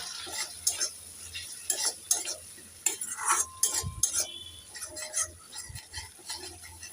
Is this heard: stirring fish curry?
yes